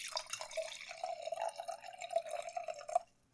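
Junmai Daiginjo sake pours steadily into a glass, a continuous close liquid trickle lasting about three seconds before stopping.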